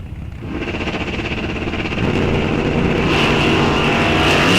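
Drag race cars launch and accelerate hard down the track at Rock Falls Raceway, the engine roar building steadily and loudly with no speech.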